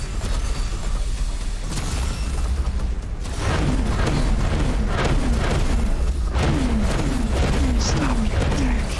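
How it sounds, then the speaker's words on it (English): A habitation module blows up in the space game X4 Foundations: a deep, rumbling boom rolls on while a series of descending, chirping debris and mechanical tones sweeps past. "Explosion imminent. There goes the habitation."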